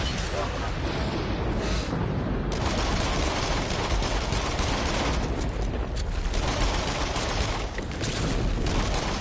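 Dense, continuous gunfire from the VR shooter game Until Dawn: Rush of Blood, loud and close with rapid overlapping shots and bursts filling the whole stretch.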